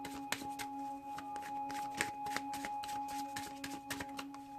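Tarot cards being shuffled by hand, a quiet close run of rapid riffling snaps and flicks in irregular bursts, no talking.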